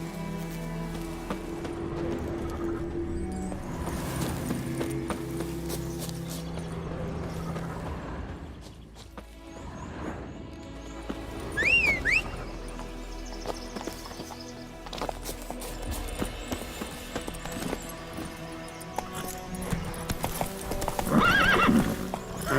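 A horse in The Witcher 3 gallops with steady, rhythmic clip-clop hoofbeats throughout, neighs sharply once around the middle, and the ambient game world sounds stay in the background.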